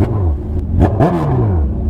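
A Honda CB1000 motorcycle fitted with a car wheel revs loudly and close on a city street, the engine pitch rising and falling in quick swells with no talking.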